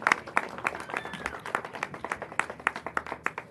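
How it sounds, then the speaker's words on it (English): A crowd at a city council meeting applauding, with steady, dense clapping that carries on evenly throughout, moderately loud and without speech. "Let's give Chad a big round of applause."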